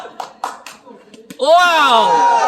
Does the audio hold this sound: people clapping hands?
yes